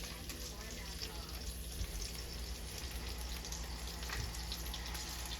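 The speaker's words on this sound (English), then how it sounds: "first I'm going to put in the onion because we want that to brown first" Chopped onion fries in a pan, giving a steady, even sizzling hiss that holds throughout at a moderate level.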